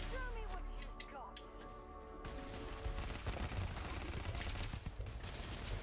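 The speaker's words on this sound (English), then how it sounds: "Grenade seemed to do some damage." Gunfire and a blast in a Starfield firefight: bursts of shots and rattling fire over tonal game music, with a heavier explosive burst rising partway through and loud gunfire continuing after.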